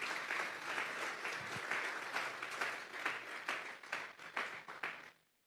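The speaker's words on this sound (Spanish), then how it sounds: "Vamos a darle un fuerte aplauso pues al Señor." Loud, sustained applause from a congregation during a church service, dense clapping that holds steady for several seconds, then breaks into a few scattered claps before stopping.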